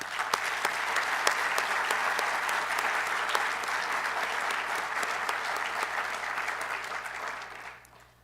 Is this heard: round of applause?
yes